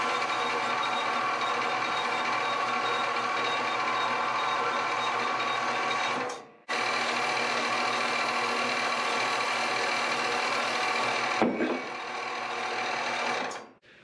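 A Harbor Freight bandsaw cuts through a piece of angle iron, giving a steady, loud grinding whine that runs continuously, drops out briefly, then resumes before cutting off near the end.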